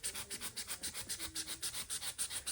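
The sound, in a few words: knife cutting ballast mat on Lionel Fastrack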